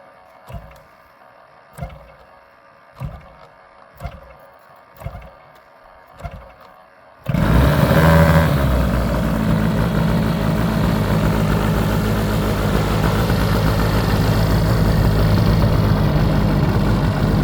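A large RC airplane engine with canister mufflers pops a few times unevenly, then roars to life and runs loud and steady up close, a raspy continuous drone.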